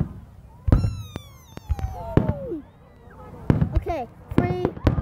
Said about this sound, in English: Are you ready for the biggest firework?